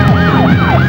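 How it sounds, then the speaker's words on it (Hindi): A wailing police siren sweeps up and down in repeated rising and falling cycles, loud and close with a steady road rumble beneath, and no one speaking. "यार ये तो पुलिस के सायरन की आवाज लगती है।"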